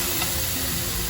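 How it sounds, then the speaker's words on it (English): Food sizzles on a hot surface at the table in a main dining restaurant aboard the cruise ship Scarlet Lady, a steady close frying hiss with no talking. "Now let's take a minute to listen to this sizzle."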